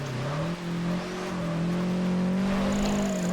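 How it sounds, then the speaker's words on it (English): A race car in Project Gotham Racing 4 holds a loud, steady engine drone as it loses grip, with a sliding tire squeal and pitch shifts under the roar. "Whoa! The car got loose there."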